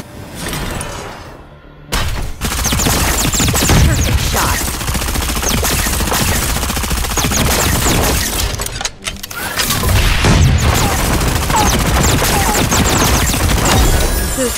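Gunfire in the mech battle royale game Super Mecha Champions: dense, loud bursts of shots and booming impacts fill nearly the whole stretch, with a short lull near the start and a brief dip midway.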